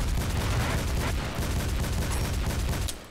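Rapid pistol gunfire in the online shooter Double Action, with dual pistols firing as a loud, dense, continuous burst of shots that cuts off abruptly near the end.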